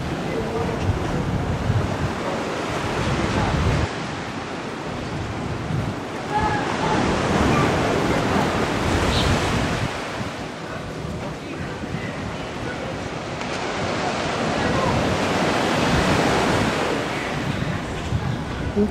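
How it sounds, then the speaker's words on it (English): Ocean waves wash onto the shore at Cozumel, rising and falling in slow surges, each lasting several seconds, with wind buffeting the microphone throughout. "Listen to the waves."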